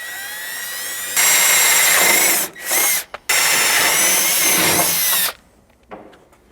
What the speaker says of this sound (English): We're going to need to drill these out to 5/16, but I'm going to start those with a smaller drill bit.